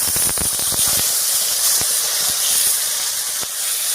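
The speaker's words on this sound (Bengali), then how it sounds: "এর উপরে দিয়ে দিচ্ছি বাটা মশলাটা আদা কাঁচা লঙ্কা জিরা ধনিয়া" Ground ginger, green chilli, cumin and coriander paste sizzles steadily in hot oil for a vegetarian potato and cauliflower curry, a loud continuous hiss with a few sharp spits and crackles near the start.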